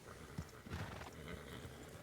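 A horse in a video game roleplay whinnies and its hooves clop, somewhat muffled and mixed with game ambience, fairly faint throughout.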